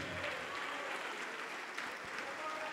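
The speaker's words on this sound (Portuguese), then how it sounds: "E vamos aplaudir mais ao Senhor Jesus, igreja." A church congregation claps for Jesus during a Portuguese-language service, sustained crowd applause that stays fairly faint and distant, with a voice faintly audible beneath it.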